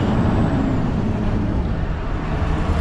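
Scania R620 V8 truck drives with a loud, dense roar of engine and road noise, a steady broadband rush and low rumble throughout, no voices.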